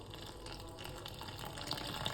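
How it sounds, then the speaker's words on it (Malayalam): Water poured into maida flour with turmeric and salt while making sweet boli dough, a steady, faint running trickle with no talk. "വെള്ളം"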